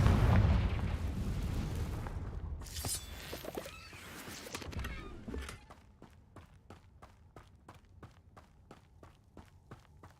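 A Confringo fire spell in Hogwarts Legacy bursts with a heavy, roaring blast that rumbles and decays over several seconds, followed by a steady run of soft, evenly spaced footsteps.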